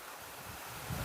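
Steady gusting wind buffets outdoors, a broad rushing noise with a low rumble swelling near the end.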